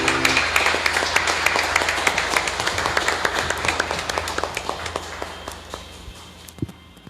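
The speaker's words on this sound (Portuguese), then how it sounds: "Aplauda o Senhor em nome de Jesus" A church congregation claps for the Lord in a sustained wash of applause that gradually thins into scattered, distinct claps and fades toward the end.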